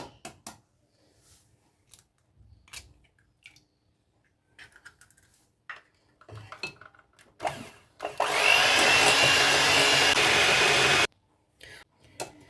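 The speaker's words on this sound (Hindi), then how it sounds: "एक एक करके हम इसमें डालेंगे और इसे हम अच्छे से बीट करेंगे।" Eggs are beaten into sugar and cream for cake batter with an electric mixer. It whirs loudly and steadily for about three seconds, then cuts off, with light bowl clatter and small knocks before and after.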